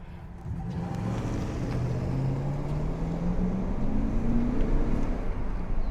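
A 2008 Chevrolet pickup truck cruising along, its engine and tyre roar a steady close rumble with a slowly rising drone as it gathers speed; no talking.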